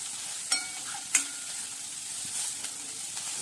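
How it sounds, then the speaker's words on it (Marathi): A spoon stirs red chili powder, turmeric and cumin in a hot pan, a soft steady sizzle broken by two sharp scraping clinks early on and a few lighter taps, close and with no talking. "ते अर्धा चमचा लाल तिखट, थोडी हळद, थोडे जिरे, ते छान मिक्स करून घेऊया"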